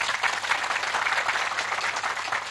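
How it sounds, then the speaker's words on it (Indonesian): Sustained applause from an audience at a live religious gathering in Palembang, a steady dense wash of clapping filling the whole moment at even loudness. "Boleh tepuk tangan?"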